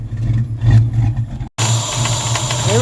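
A 1994 convertible's engine idles loudly and close by with a steady low drone and some rattling, cuts out for a moment, then comes back just as rough.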